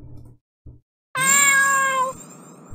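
Cats meow in the video game Cloé's Requiem, a sustained, clear, tonal meow lasting about a second, alone after a couple of short faint sounds.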